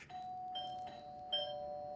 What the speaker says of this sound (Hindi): घंटी की आवाज मैं बर्दाश्त नहीं कर सकता।